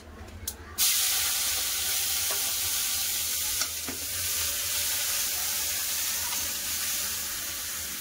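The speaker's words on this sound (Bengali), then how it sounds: "পেঁয়াজটা ভালো করে ভেজে নেব।" Onions drop into hot oil with a sudden loud sizzle that settles into a steady frying hiss, with occasional clinks of a utensil stirring.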